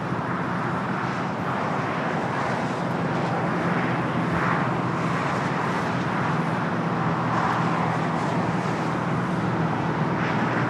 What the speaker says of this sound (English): this is flight 38 to 787-10 Dreamliner coming up from Tokyo, Haneda